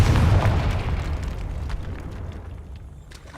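A Confringo blasting spell in Hogwarts Legacy on PS5 detonates in a loud, deep explosion, a dense rumbling blast that fades steadily over about three seconds with scattered crackles in the tail.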